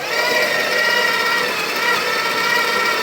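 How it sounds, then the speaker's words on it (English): Coffee grinder grinding beans into a portafilter, a loud, steady mechanical whir with a dense high grinding buzz that holds unchanged from start to end, close up and without voices. "when you go to grind coffee"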